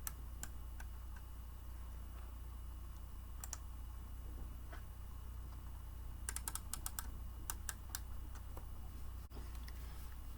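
Sharp computer mouse clicks over a steady low hum, scattered singly early on then in a quick cluster of several clicks near the middle and later, close and fairly quiet with no talking.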